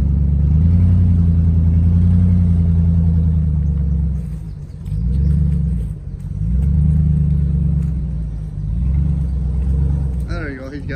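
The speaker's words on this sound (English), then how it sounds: "Back a trailer up." A vehicle engine idles and revs in low, rumbling swells while backing up a trailer, loud and close, with throttle rising and dropping several times and a voice briefly heard near the end.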